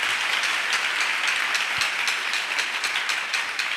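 A church congregation at a Pentecost service applauds in praise of the Lord, with steady, dense clapping from many hands filling the room without pause.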